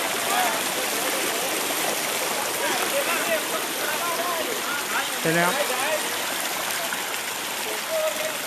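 Water of a stream at Than Thong waterfall in Surat Thani rushes as a steady broad wash, close and continuous, with a voice briefly speaking over it.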